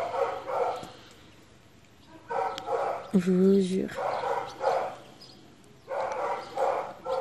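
A neighbour's dog in a small back garden gives a brief bark or yelp in the middle, close and clear, while a person talks quietly before and after it.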